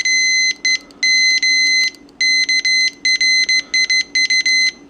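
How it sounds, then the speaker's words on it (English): Digital kitchen timer being set on a stovetop for beef stew, a loud close series of high electronic beeps in short irregular bursts, some held and some rapid, as buttons are pressed. "let's set our timer for an hour and a half"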